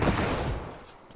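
Gunfire from a weapon in a battle royale video game, a dense burst of shots at the start that fades into a trailing echo within about a second.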